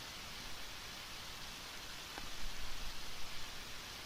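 Rain falls steadily in the video game Undertale, a dense even hiss throughout with a slightly heavier low patter toward the end, no talk.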